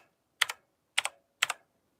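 Three quick bursts of keystrokes on a new computer keyboard, each a sharp double clack, evenly spaced and close up against a silent background.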